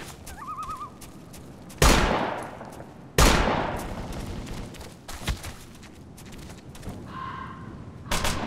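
Gunfire in the military game Operation Flashpoint: Dragon Rising, two loud nearby shots with ringing decay amid scattered quieter distant pops, with a warbling birdlike tone near the start and another later.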